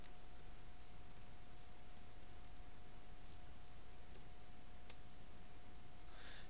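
Light, sparse clicks of a password being typed on a computer keyboard during an Ubuntu Linux setup, heard faintly over a constant background hiss and a low steady hum.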